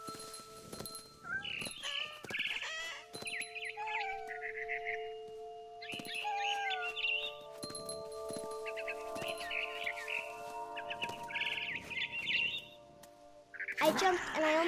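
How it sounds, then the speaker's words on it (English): A barn swallow in What Remains of Edith Finch chirps in short bursts, repeated at intervals over a quiet hum with scattered faint knocks, ending in a louder flurry. "Then I heard chirping outside my window. It was a barn swallow going back to her nest."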